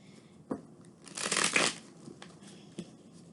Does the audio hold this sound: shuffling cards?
yes